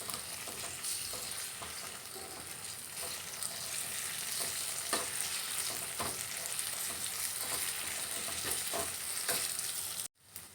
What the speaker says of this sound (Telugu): ఇలా ఫ్రై అయిన తర్వాత దీనిలో కొంచెం అల్లం వెల్లుల్లి పేస్ట్ వేసుకొని మంచిగా కలుపుకోవాలి